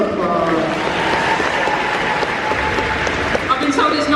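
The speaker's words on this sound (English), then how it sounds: "Round of applause." Audience applause at a David Tennant Doctor Who event: steady, dense clapping from a large crowd filling the whole moment, with some voices faintly mixed in.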